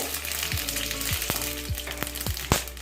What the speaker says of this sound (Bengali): কালো জিরে আর সর্ষেটা আমি ফোড়ন দিয়ে দিচ্ছি